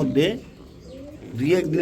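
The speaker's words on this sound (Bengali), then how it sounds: "এই যে দেখছেন অ্যান্ডালুজিয়ান রেসার কবুতর" Andalusian racer pigeons coo softly, rising and falling in two short bursts, close by, with a quiet pause between them.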